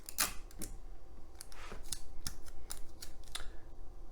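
Scissors snipping through a taped loop of paper strip, a series of crisp, close cuts at an uneven rhythm, with quiet rustling of the paper between snips.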